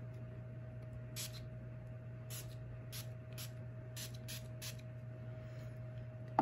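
A pump bottle of makeup setting spray sends out a series of short, sharp hissing bursts, about eight spritzes, over a steady electrical hum.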